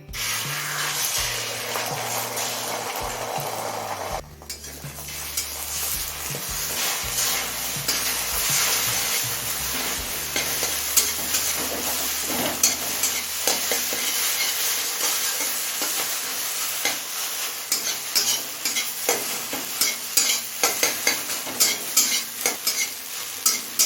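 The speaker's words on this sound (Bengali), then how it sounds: "এবার ফ্যাটানো ডিম দুটো ভেজে নেবো" Beaten eggs sizzle and crackle steadily in hot oil for a long stretch, with occasional stirring and scraping in the pan.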